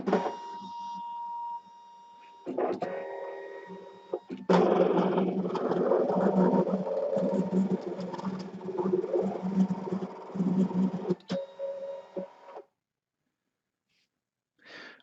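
A Brother ScanNCut machine cutting fabric, its motors whirring and buzzing in shifting bursts as the carriage moves, loud and close, ending in a short pause with a final faint click; no talk.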